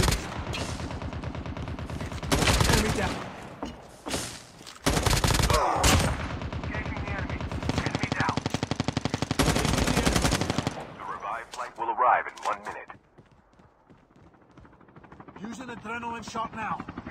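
Rapid bursts of automatic gunfire in the Call of Duty Mobile battle royale, loud close strings of shots broken by pauses, with a voice talking between the bursts.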